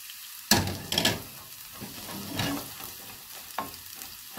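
Chicken fried rice is stirred and tossed in very hot cooking oil, sharp sizzling bursts as the ingredients hit the pan, then scraping strokes and a steady fry, close and loud with no talking.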